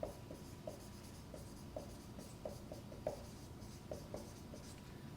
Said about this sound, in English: need space to write